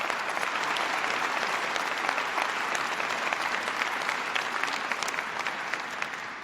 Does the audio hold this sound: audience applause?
yes